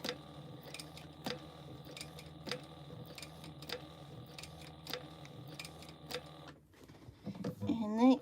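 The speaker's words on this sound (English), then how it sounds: "All right, so now we're going to top stitch this." A sewing machine top stitches a tote bag with a rapid, steady run of close mechanical ticks for about six seconds, then stops as a voice begins to talk.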